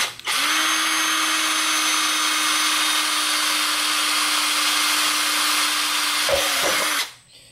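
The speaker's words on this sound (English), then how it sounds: "I'm just going to take a quarter inch bit, and I'm just going to go around and about an inch or so up." Power drill with a quarter inch bit boring holes in a plastic bucket, a single loud steady whine held for about six seconds before winding down and stopping.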